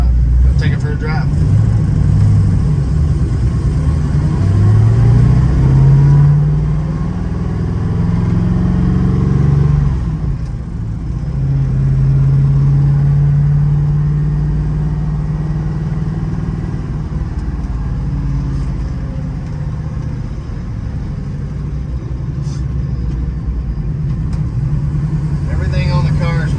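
A 1969 Ford Mustang GT 428 Super Cobra Jet with 4-speed manual rumbles close by as it drives, revving up through gears with rising and falling tones, and a voice speaks over it at times.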